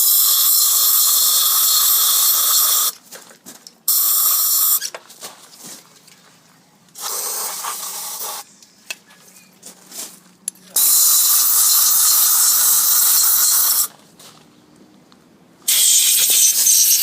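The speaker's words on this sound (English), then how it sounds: "We'll use brake cleaner and then an air line" Compressed air line blasting out the inside of a waterjet cutter swivel body, its seal discs removed, in loud sustained bursts of several seconds each, separated by quieter gaps with faint clicks and handling.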